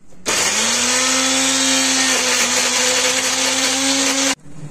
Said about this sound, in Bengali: তার মধ্যে 4খানা টুকরো করা একটা মিডিয়াম সাইজের পেঁয়াজ দিয়ে দেবো, আর 2টো কাঁচা লঙ্কা দিয়ে এটাকে এবার পিষে নেব।